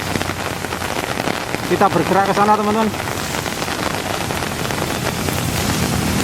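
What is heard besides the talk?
heavy rain pouring in Malang city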